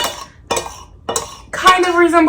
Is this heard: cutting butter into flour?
yes